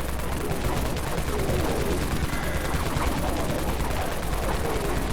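Dawn Mag gun in the video game Dead Frontier fires as a dense, continuous burst of rapid shots, loud and unbroken for several seconds, with no voices over it.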